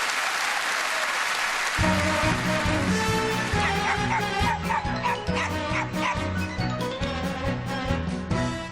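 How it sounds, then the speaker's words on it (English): A small dog yaps and whimpers on stage at a variety performance, its barks set over lively music and applause from the audience. "Isn't that Miss Lark's dog, Willoughby?"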